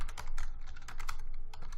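Quick, close keystrokes clatter on a computer keyboard while someone codes HTML and CSS, a brief irregular burst of clicks alone without talk.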